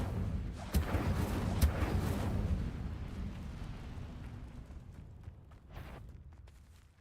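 Incendio fire spell cast in Hogwarts Legacy, a whooshing fiery burst with sharp pops that swells and then fades into a long roaring rumble, moderately loud with no speech.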